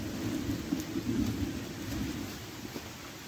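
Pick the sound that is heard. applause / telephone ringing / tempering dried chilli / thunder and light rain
thunder and light rain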